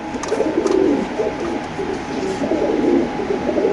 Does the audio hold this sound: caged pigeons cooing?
yes